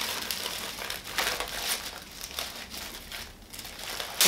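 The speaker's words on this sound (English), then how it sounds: "Does anyone else like to slide tissue paper off rather than take off the stick if they can avoid it?" Close, crackly rustling of tissue paper as it is slid off and crinkled around a Chanel 20C bag being unboxed, steady for several seconds with brief louder surges.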